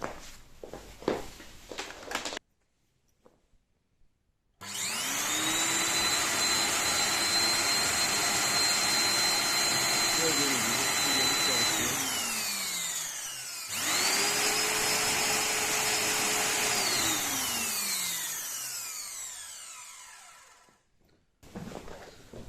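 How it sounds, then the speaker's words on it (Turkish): A vacuum cleaner, just fitted with new carbon motor brushes, whirs up to a loud steady drone, cuts off briefly, then starts again and runs before winding down, with quieter handling noise around it. "Süpürgeyi deneyebiliriz."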